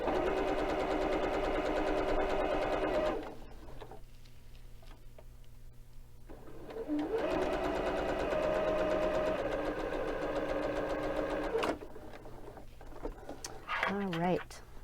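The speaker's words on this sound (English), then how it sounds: "I'm going to go to the machine and I'm going to sew these." A sewing machine stitches quilt pieces together, running in steady mechanical bursts with a hum and rhythmic ticking, pausing between runs, while a voice talks briefly near the end.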